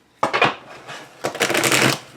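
True Heart Tarot cards being shuffled up close, two brief bursts of riffling card flicks separated by a short pause.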